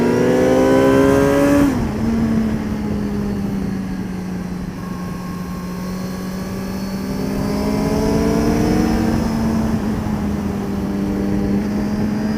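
A race car on the Le Vigeant circuit roars loudly from inside the cockpit, holding a sustained engine drone that swells and shifts pitch through gear changes as it accelerates again out of a corner.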